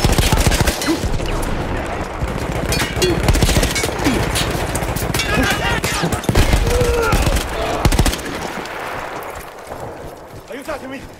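Machine gun fire rattles in Battlefield 1, a dense, loud burst of rapid shots that runs for about eight seconds before fading into quieter battlefield noise.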